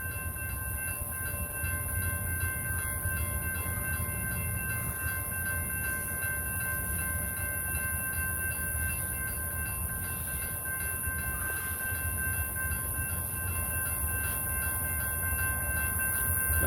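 A BNSF train creeps slowly backward along the track, a steady low rumble of railcars with sustained tonal hum, continuous and fairly close, with no talk.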